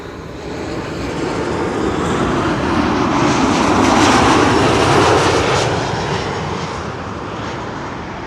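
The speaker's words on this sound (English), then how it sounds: "KLM flight 1442," KLM passenger jet arriving from Bordeaux and landing at Schiphol in poor summer weather, a loud broadband engine roar that swells to a peak as the aircraft passes close by, then slowly fades.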